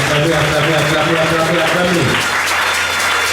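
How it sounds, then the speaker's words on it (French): A church congregation applauds loudly and steadily throughout, with dense clapping filling the space. A sustained musical tone sits underneath and drops away partway through. "Acclamez."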